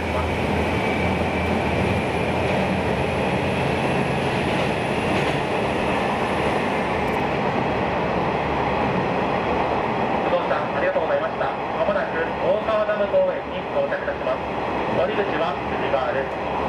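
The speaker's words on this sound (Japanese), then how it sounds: "この列車は快速列車北方行き" A Japanese rapid train runs along the track near Okawa Dam Park, a loud continuous rumble of wheels and carriage noise with a high whine fading midway, while a voice announcement is heard over it.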